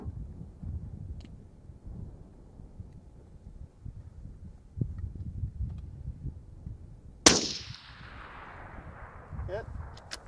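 A single crisp report rings out from a suppressed Savage 10 FCP-SR rifle chambered in 6.5 Creedmoor at an outdoor 1,000-yard range, decaying over a couple of seconds against low, steady background noise.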